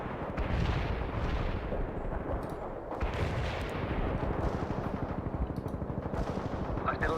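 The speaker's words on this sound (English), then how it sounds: "Commencing the barrage." Artillery barrage in the video game World in Conflict, a dense rolling series of booming blasts and rattling gunfire, loud and continuous, with faint voices beneath.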